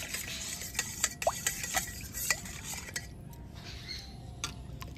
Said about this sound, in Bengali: লবণ দিয়ে খুব ভালোভাবে জলের সাথে মিশিয়ে নেব।